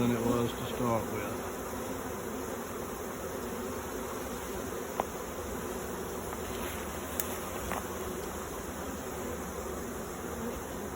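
Honeybees swarm around a hive, a dense steady buzzing that fills the air without letup, with a few brief louder passes of individual bees.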